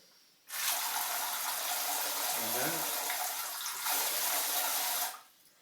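A steady rush of water from a bidet's nozzle cleaner starts abruptly, runs for several seconds with a brief dip partway, then cuts off.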